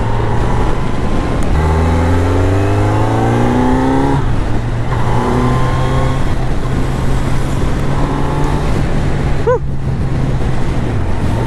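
A 2023 Kawasaki Z900 naked motorcycle is ridden on the road, its engine note rising through several accelerating gear pulls with shifts between them, under constant wind rush near the rider.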